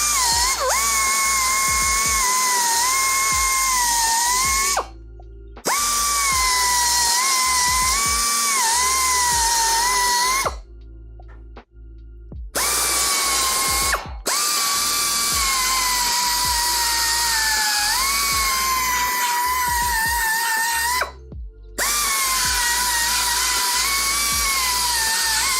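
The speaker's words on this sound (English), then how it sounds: "This is why a finger sander is very, very nice." Finger sander grinding metal on a rusty Ford in a garage: a high, steady whine in long continuous bursts, stopping briefly several times and starting again, close and loud with no talk.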